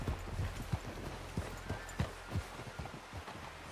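Horse hooves clip-clop in an uneven, steady gait on a ridge trail, each strike close and distinct over a low background rumble.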